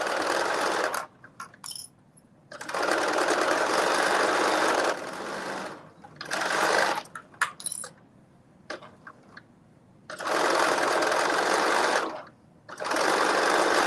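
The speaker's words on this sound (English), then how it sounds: "it'll make it so much easier to just go in and serge it" A serger overlocks a skirt seam in repeated bursts, its fast whirring runs broken by quiet gaps filled with small clicks and fabric handling.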